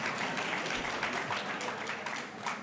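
An audience at a debate applauds steadily, a dense wash of clapping that holds throughout without talk over it.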